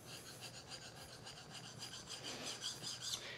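A wood plane blade honed on a sharpening stone, with soft repeated rasping strokes in a steady back-and-forth rhythm, close and fairly quiet, growing slightly louder toward the end.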